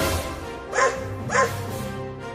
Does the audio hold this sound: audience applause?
no